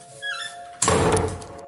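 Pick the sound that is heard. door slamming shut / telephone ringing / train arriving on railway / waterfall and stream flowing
door slamming shut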